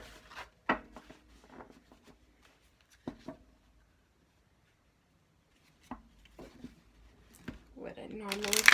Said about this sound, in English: sometimes the decks just demand more shuffling than